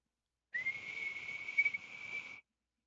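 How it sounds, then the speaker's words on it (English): A single whistle blast, blown at a tabletop game session, holds one shrill, steady tone for about two seconds, fairly loud and close, with no talk over it. "Just blow the whistle."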